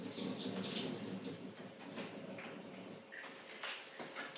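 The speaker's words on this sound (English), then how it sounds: "So I'm going to drain this." Water trickles and splashes faintly as canned chickpeas are drained, a quiet continuous wash with a few small drips and clinks.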